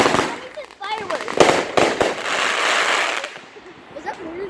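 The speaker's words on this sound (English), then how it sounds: "Those are like gunshots, dude. What is this? Fireworks." A Witchcraft firework goes off in a rapid series of sharp, loud cracks like gunshots, followed by a hissing, crackling rush, with people talking and exclaiming excitedly throughout.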